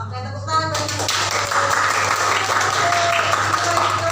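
Students applauding in a junior high classroom during a science lesson, a burst of clapping that starts after a brief opening and carries on steadily over a low constant hum, with a voice faintly audible at the start.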